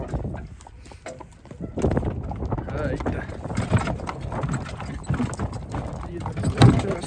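Mares out on a walk along a rural village road, hooves clip-clopping in an irregular walking rhythm close by, with a person talking over the steps.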